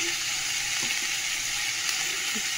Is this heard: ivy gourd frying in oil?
yes